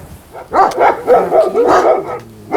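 A small dog barks repeatedly in a quick, yappy series of close, fairly loud barks with short gaps, with no one talking over it.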